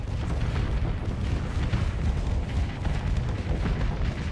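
Weapons fire in a Starsector space battle, heard as a dense, unbroken barrage of heavy booming rumbles and crackling blasts that stays loud and steady throughout, with no talking.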